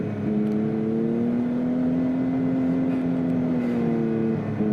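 A UTV engine hums steadily with a smooth, sustained drone and a slight rise and fall in pitch while the vehicle drives through the desert, close and continuous with no talking.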